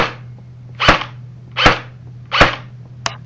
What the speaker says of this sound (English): hopefully you can remember what it sounds like with suppressor